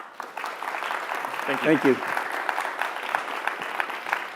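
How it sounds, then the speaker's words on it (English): An audience at an HCI talk celebrating thirty years gives a round of applause for a speaker, with steady, dense clapping that fills the room throughout while someone speaks briefly over it. "So if you all can give a round of applause for Jack."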